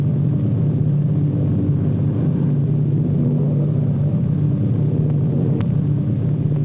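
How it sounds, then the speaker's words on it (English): A propeller airplane coming in to land at an airport in 1948 drones steadily with a low, constant engine hum, even and unbroken throughout. "Our pilot brings his plane in to a smooth landing."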